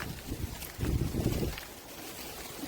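Wind gusting outdoors among coconut palms, a steady rushing with stronger low buffeting midway, fairly close and unaccompanied by speech.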